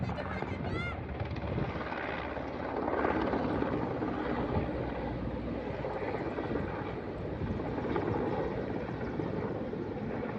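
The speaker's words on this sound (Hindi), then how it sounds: "वो देखिए हेलीकॉप्टर" A helicopter flying overhead roars steadily throughout, a loud continuous rotor drone with faint voices underneath.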